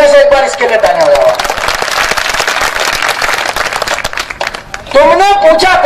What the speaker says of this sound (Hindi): मेरे कहने से एक बार इसके लिए तालियां हो जाओ।